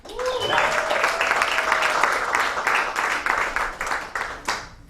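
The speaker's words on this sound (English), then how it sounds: "Now, round of applause for all the Latino nations." A comedy club audience bursts into loud, dense applause and cheering that holds steady, then thins out toward the end, with a brief tone heard at the start.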